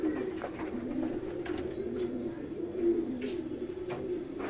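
Saharanpuri pigeons cooing in soft, low repeated calls, with a few higher chirps and faint background noise around them.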